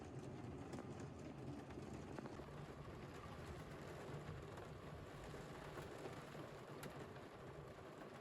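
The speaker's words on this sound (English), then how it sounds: "you can just hear the rain pattering on the ceiling" Soft, steady rain patters on a camper van roof overhead, a faint continuous wash dotted with tiny droplet taps.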